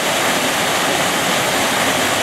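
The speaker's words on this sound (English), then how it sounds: "And we got a nice waterfall." The waterfall at Cameron Park Zoo in Waco, Texas roars loud and close as a steady, dense rush of falling water, with no voices.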